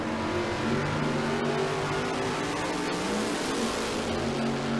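Drag race cars launch at a bracket race at Tucson Dragway, a loud, continuous roar of engines with harmonic revving that holds steady across the run.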